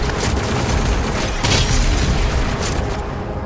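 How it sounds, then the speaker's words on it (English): Video game gunfire and explosions from Doom Eternal on Ultra-Violence difficulty roar in a dense, loud, continuous barrage of blasts and booms with no pauses and no voices. "Because there's people shooting at us."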